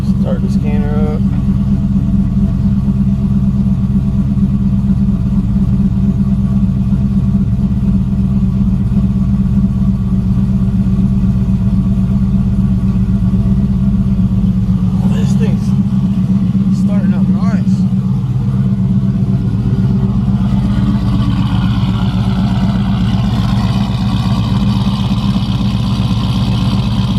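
Procharged Chevrolet Trailblazer SS engine and exhaust runs steadily with a deep, continuous low drone throughout, a fairly quiet muffler keeping the note subdued, with a few brief higher sounds midway and a slight rise near the end.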